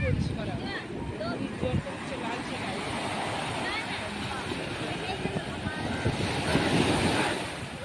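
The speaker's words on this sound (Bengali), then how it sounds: "বড় ঢেউ" Big ocean waves at Kovalam beach near Chennai, a continuous roaring surf wash with wind buffeting the microphone, loud and close, with faint voices underneath.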